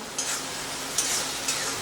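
Sauces for egg chilli fry in a pan with a continuous close sizzle. Three sharp spatula scrapes against the pan are spaced evenly through the stirring.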